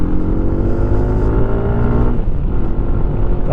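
A Lifan KPX 250 dual sport motorcycle being ridden, its engine droning loud and close with a steady tone that drops slightly partway through, wind rumble underneath.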